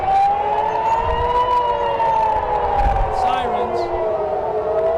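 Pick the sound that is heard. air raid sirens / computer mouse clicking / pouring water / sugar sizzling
air raid sirens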